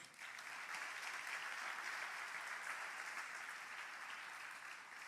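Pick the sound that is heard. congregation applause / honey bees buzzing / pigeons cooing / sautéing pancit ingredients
congregation applause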